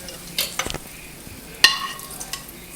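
Bacon, broccoli and golden raisins get stirred together in a hot pan, with a few soft scraping clatters and light sizzling across a short span, close and moderately quiet.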